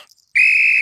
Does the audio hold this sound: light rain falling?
no